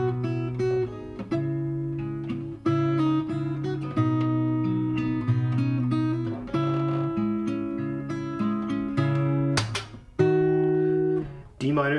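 A guitar plays the melody of Bruce Cockburn's "All The Diamonds" as clear, close, sustained picked notes and chords, alone with no talking.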